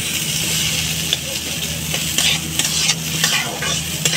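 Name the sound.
stirring fried moong dal in a pan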